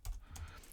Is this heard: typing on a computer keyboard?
yes